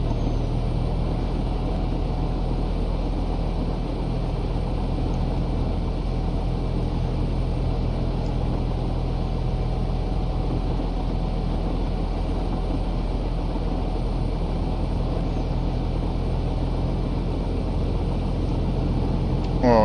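Aircraft engine held at full throttle for takeoff in FlightGear, a steady loud droning rumble with even hum that continues unbroken throughout.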